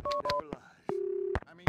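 A telephone is dialed in the video game Max Payne 2, a quick run of short, clean tone beeps from the keypad followed by a longer steady tone and a few sharp clicks.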